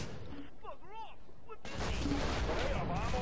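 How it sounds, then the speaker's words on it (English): Explosive mortar strikes in a World War II war video game, a sudden loud dense burst of blasts and rumbling that follows a whooshing, warbling sound, with no talk over it. "Whoa, so now they've got mortar strikes."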